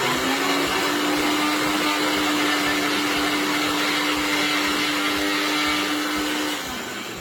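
Kitchen blender whirring through a nutrition shake of milk powder, a loud steady motor drone with a fixed whine, running continuously and easing off slightly at the end.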